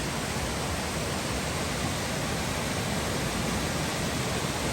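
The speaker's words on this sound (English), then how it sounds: "I think it's called Martins Creek Falls" Martins Creek Falls, a waterfall near a trail campsite, roars as a dense, steady, unbroken rush of falling water, close and loud throughout with no voices.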